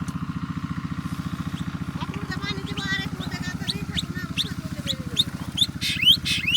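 Drongo birds call outdoors in quick, high, chirping bursts that grow busier toward the end, sounding over a steady low engine-like drone that runs throughout.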